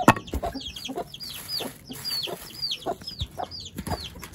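Chickens cluck repeatedly at close range, with a steady run of short, sharp calls and no talking.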